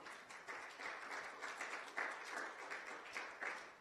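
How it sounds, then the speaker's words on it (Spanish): A church congregation claps together in steady, moderately distant applause for several seconds. No voices rise above it. "Denle un aplauso al Señor"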